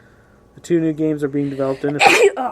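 A single sharp sneeze bursts out near the end of spoken narration at a D23 presentation announcing new horror games, with talk continuing just before and right after it.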